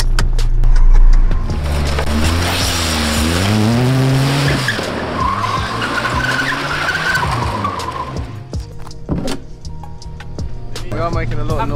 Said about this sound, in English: Let's see if you can do some donuts around the cone.